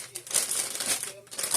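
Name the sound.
small plastic bags crinkling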